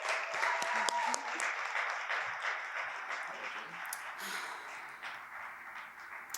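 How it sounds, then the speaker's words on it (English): Audience applause for a poet at a live poetry show, a dense, sustained wash of clapping that holds steady for several seconds and tapers slightly toward the end. "Round of applause."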